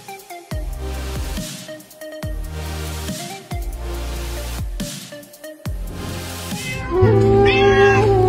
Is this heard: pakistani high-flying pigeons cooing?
no